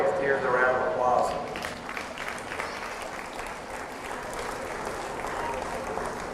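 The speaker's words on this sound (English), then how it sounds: "Go ahead and give these middleweight steers a round of applause." A crowd at a county fair livestock show applauds the middleweight steers, clapping strongest at the start and then tapering off into lighter scattered applause, with a voice speaking over it.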